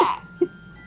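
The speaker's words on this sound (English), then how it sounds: "Are my hiccups funny?" A single short hiccup sounds close by, a brief sharp burst followed by a faint second catch, with no talking.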